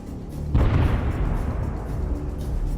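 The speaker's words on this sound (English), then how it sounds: "an explosion occurs right next to the wheel." A sudden close blast goes off beside a military vehicle's wheel, a single loud broadband boom at about half a second that decays into a long rumbling roar with debris noise.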